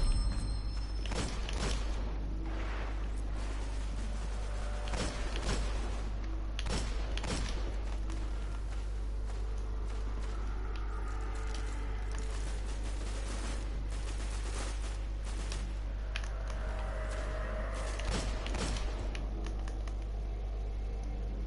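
Gunfire in the video game Destiny: scattered sharp shots and short bursts over a constant low drone, some shots loud and close, others softer, spread irregularly across a long stretch.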